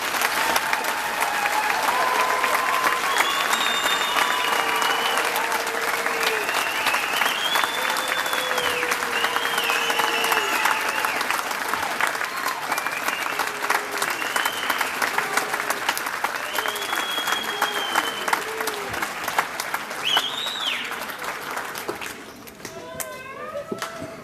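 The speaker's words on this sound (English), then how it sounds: "Let's give our graduates a round of applause." Sustained applause from a large audience at a 2013 college graduation ceremony, steady and dense from start to finish, with scattered voices and whistles carrying over the clapping before it thins near the end.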